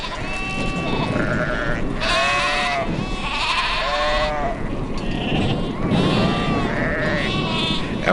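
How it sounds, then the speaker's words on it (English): A large flock of sheep on a Wyoming ranch bleats continuously, many overlapping calls rising and falling close by over a constant background murmur of the herd. "After counting hundreds of sheep, Truman can tell when even a few are missing"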